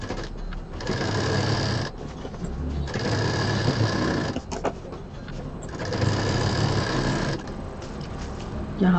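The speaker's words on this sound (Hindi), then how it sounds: "तो पहले हम बॉटम को सिलेंगे।" Sewing machine stitching the bottom seam of a large cloth bag, running in steady bursts of rapid mechanical whirring with brief pauses between runs, close and fairly loud.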